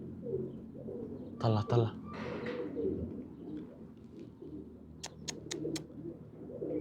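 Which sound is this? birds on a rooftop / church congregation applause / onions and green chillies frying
birds on a rooftop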